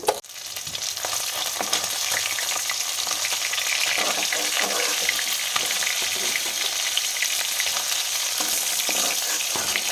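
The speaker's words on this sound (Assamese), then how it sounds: "এয়া মাছ ভজা হৈ গ'ল।" Bhokua fish frying in a pan for an Assamese-style curry, with a loud, continuous sizzle and crackle of hot oil and occasional stirring scrapes, close-up and unbroken for the whole stretch.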